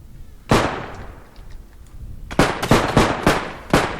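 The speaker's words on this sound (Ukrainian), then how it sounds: "по мені стріляють десь з вулиці" Gunfire rings out from the street in a realistic bodycam-style shooter game, with one sharp shot followed after a pause by a rapid cluster of loud, cracking shots in quick succession.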